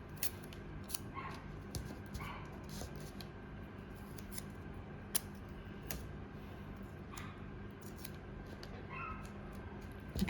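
Scissors trimming tape along a dart line on a sewing pattern: a series of crisp, close snips and clicks spaced irregularly over a low steady room hum.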